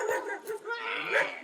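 A dog lets out short high whimpering yips over about a second and a half, close and moderately loud, mixed with a person's voice.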